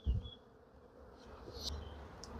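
Honeybees buzz during a hive inspection, a soft continuous drone close to the microphone with a few brief louder passes and light handling bumps.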